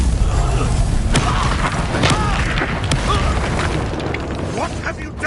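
A Confringo spell explosion in the video game Hogwarts Legacy, a loud booming burst with popping debris and rumbling crashes that settle over a few seconds, with voices speaking during it.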